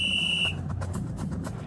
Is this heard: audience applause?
no